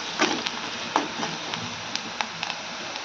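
Frying onions with turmeric and salt stirred in a pan, a soft steady sizzle broken by scattered clicks and scrapes of the spoon against the pan.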